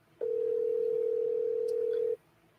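A steady single-pitched telephone tone on an outgoing call sounds for about two seconds, clear and even against faint background noise, with no speech over it.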